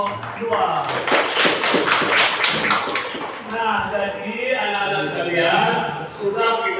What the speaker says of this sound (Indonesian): Oke, kita beri tepuk tangan untuk kelompok